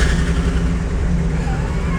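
An old Ford bucket truck engine idles with a steady, rough low rumble that runs throughout at constant loudness, close by.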